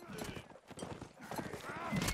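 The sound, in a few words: horse hooves galloping, video game Mount & Blade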